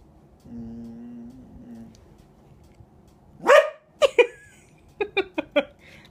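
A dog makes noises indoors: a low whine or groan, then a few sharp barks and yips in a quick irregular burst, fairly close and alone with no talking.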